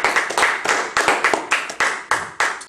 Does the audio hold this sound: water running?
no